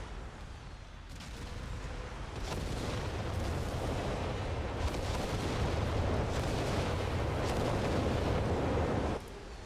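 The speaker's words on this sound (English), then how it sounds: "Just lots of artillery fire, okay." Artillery barrage in the World War II strategy game Company of Heroes 3, a dense continuous rumble of distant booms and cracks rolling on for nearly ten seconds with no talk over it.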